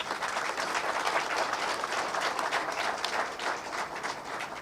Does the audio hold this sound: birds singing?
no